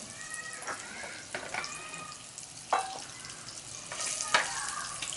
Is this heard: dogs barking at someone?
no